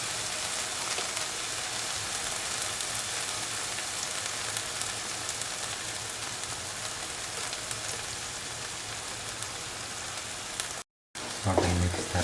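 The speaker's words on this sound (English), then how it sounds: "now put in the ground onion, shallot, cashew mixture," A ground onion, shallot and cashew paste sizzles steadily in a hot pan, a dense even crackle like light rain that runs nearly the whole time, with a brief gap and then stirring near the end.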